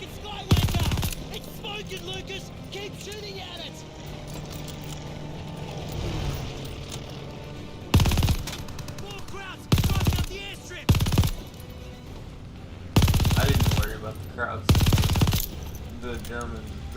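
Rapid automatic gunfire in the WWII shooter Call of Duty: Vanguard, loud bursts of machine-gun fire interrupting a steady background of game ambience, with voices talking and shouting between the bursts.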